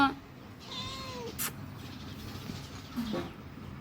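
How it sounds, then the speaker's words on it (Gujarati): A cat gives a couple of short, thin meows against a quiet room background, with a faint bird-like chirp early on. "અને જો મીંદડી છે ને બારી આવી ગઈ છે"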